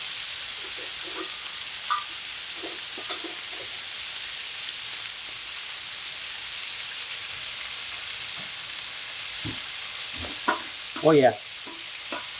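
Breakfast sizzles on a hot Camp Chef griddle, a steady, even hiss of frying that runs the whole time, with a few light clicks and a short burst of a voice near the end.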